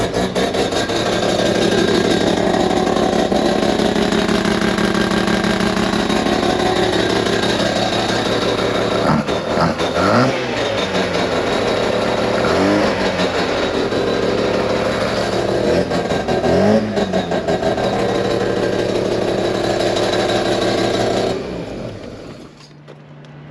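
A rotary engine fitted in a Holden Commodore with no radiator idles loud and close, with a raspy, buzzing drone and several revving surges. It then cuts off near the end.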